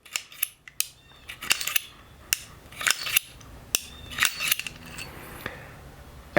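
Spent 44-40 brass cases are ejected one by one from a Cimarron Model P revolver into a palm, making a string of sharp metallic clicks and clinks with uneven spacing, close and fairly quiet.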